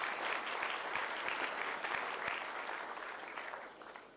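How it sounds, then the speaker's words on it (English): Sustained audience applause at an evening awards event, following a drum circle act; dense clapping holds steady, then thins slightly toward the end. "Can we please have one more round of applause for Eco Drum Circle"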